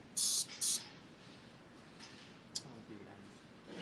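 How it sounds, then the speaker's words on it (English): Two short hissing bursts from an aerosol can of hair mousse, sprayed into a hand close up, followed by quiet rustling and faint movement. "Spray into my hand down here."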